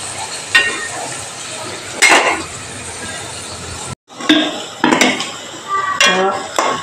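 Onions frying in a pan for a green peas roast, with a steady sizzle broken by sharp clinks and scrapes of a spoon stirring against the metal, one brief pause midway.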